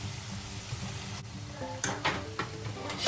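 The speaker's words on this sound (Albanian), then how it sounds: "do t'i skuqim në vaj të bollshëm në temperaturë mesatare për disa minuta" Meatballs frying at medium heat in plenty of oil give a steady low sizzle with a few sharper clinks and spoon scrapes near the end, close and fairly quiet.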